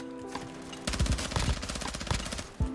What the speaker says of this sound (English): I wonder how many shots I'm not gonna miss when I'm using the assault rifle